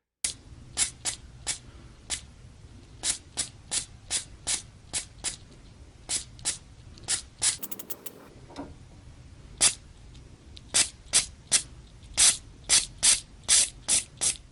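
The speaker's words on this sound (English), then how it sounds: "press the button and the nozzle will open, allowing it to be cleaned" A fuel injector nozzle being cleaned, clicking open in a steady series of sharp, close spray pulses with a brief pause midway, then continuing at a quicker pace.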